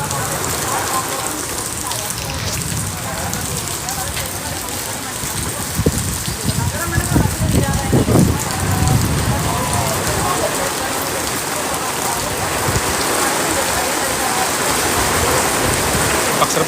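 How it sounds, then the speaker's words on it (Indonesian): Heavy rain pours steadily at Park Serpong in Tangerang, a dense, loud hiss of drops drumming on surfaces that never lets up, with a voice talking faintly underneath. "Hujannya deras banget"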